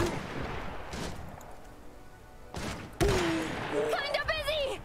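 Gunfire erupts in the wartime strategy game Iron Harvest: sharp, scattered shots and heavy thumps ring out at middle distance, with voices shouting over the combat.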